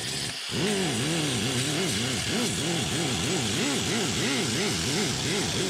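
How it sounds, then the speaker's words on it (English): An angle grinder runs steadily at low speed against the sheet metal of a 1972 Chevy C10, roughing up the surface with a close, continuous whine that wavers in pitch throughout, with no talk over it. "I'm grinding at a low speed. All I'm trying to do is just rough that metal up."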